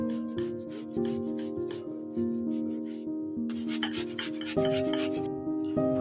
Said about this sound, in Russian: Яблоко очищаем от кожуры и натираем на мелкой терке.